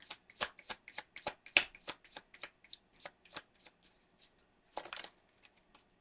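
Tarot message cards being shuffled by hand, a dense run of crisp riffling flicks and slaps that bunch together and then thin out, close and fairly quiet.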